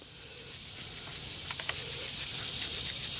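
A dug-up metal button with a vertical shank being rubbed clean outdoors after metal detecting, giving a steady soft scraping hiss throughout with a few brief sharper scratches near the middle.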